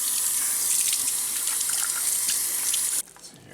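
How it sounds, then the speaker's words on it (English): Sheepshead fish eggs are rinsed under a running tap, making a loud steady splash and hiss of water into a sink that cuts off sharply near the end, with no talking. "I'm gonna wash this up a little bit."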